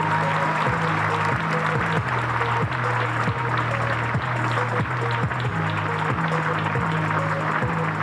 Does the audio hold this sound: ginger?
no